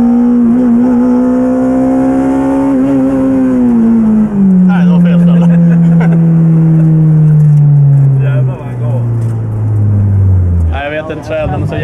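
A BMW 318 engine with worn piston rings revs hard and loud during a smoky burnout at a garage party, its pitch sliding downward as the tires spin, with people talking over it near the end.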